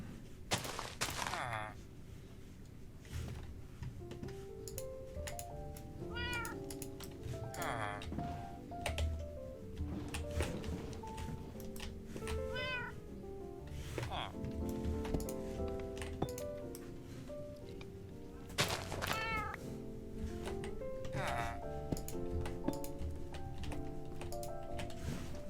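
A Minecraft cat meows a few times over a steady mix of game noises and clicks, each meow short and rising, spaced several seconds apart in version 1.19.4 survival play.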